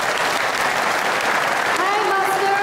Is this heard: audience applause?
yes